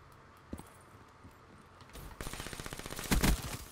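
Gunshots in a one-on-one video game match: a sparse early shot, then from about two seconds a quick run of rapid, evenly spaced shots building to a louder, heavier blast near the end, with no voices.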